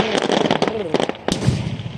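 Fireworks at a Fourth of July marina show in Martinez, California fire in rapid succession, with a dense run of loud crackling bursts and pops and people's voices mixed in.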